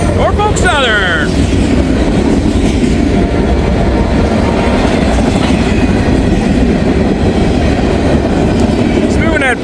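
A Norfolk Southern train rolls past at a good clip at night, a steady loud roar of wheels and cars filling the whole stretch with clickety-clack rhythm and brief squeal at the start.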